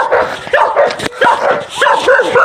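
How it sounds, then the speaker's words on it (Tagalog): A dog barks and yips repeatedly close by at night near a river, loud bursts with whimpering tones in between, no talk. "Baka ako'y kagatin ng aso."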